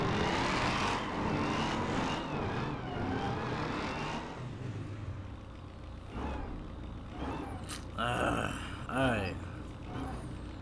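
A Dodge Hellcat's engine roars and whines as it pulls hard from a standstill up to high speed, rising and pitching up toward the end, with people talking over it.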